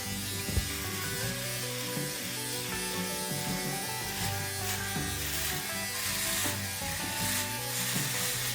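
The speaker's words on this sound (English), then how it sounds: "If you are fast, you can shave your whole face under 2 minutes" A Philips OneBlade electric shaver runs steadily across a face, giving a loud, close, unbroken buzz with slight rubbing changes as it glides.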